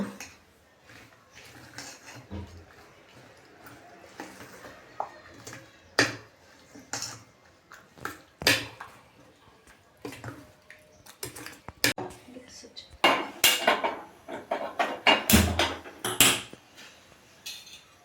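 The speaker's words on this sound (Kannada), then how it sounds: "ರುಚಿಗೆ ತಕ್ಕಷ್ಟು ಉಪ್ಪನ್ನ ಇದ್ದೀನಿ ಈಗ ಚೆನ್ನಾಗಿ ಮಿಕ್ಸ್ ಮಾಡ್ಕೊಳ್ಳೋಣ" A spoon or whisk mixes egg batter with salt in a bowl for egg paddu, giving irregular clinks and scrapes against the bowl that grow busier and louder toward the end.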